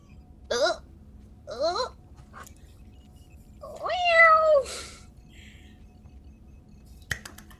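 A cat meows three times, two short calls and then a longer drawn-out one, followed by a sharp click near the end in a quiet room.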